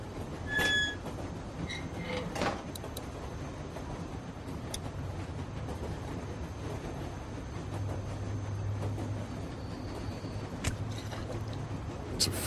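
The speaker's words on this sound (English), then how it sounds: "I hope we're not on this train much longer." A train ride in The Walking Dead video game: a steady low rumble of boxcar wheels on rails, with occasional metallic clanks and brief squeals, continuous and fairly loud.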